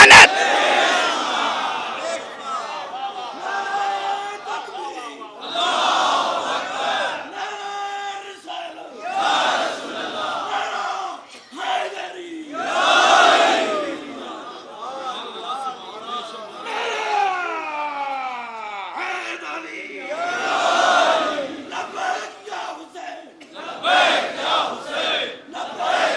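Mourning assembly at a Muharram majlis chanting slogans in loud, swelling crowd waves, with repeated group shouts rising and falling over about half a minute.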